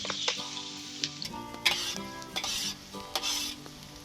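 Onion and green pepper sizzle and fry in olive oil in a pan over an open fire, with a steady hiss broken by stirring scrapes and occasional light clinks of the utensil against the pan.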